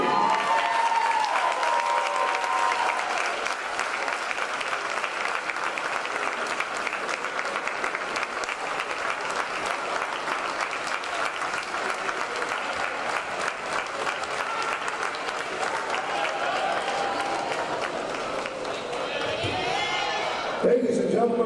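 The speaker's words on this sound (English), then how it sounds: "one last round of applause" Dense, continuous crowd applause with some cheering fills an arena at an NCAA women's basketball SCAC championship game between Trinity University and an opponent, loud and sustained, with a faint announcer voice briefly near the start.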